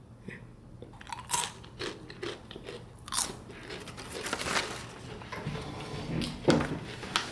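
Crispy caramel snacks crunch loudly up close, several sharp bites followed by steady chewing, with no talking over them.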